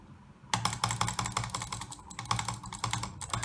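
A computer mouse is drag clicked in rapid, dense bursts of tiny clicks, close and continuous, with a brief quiet gap near the start.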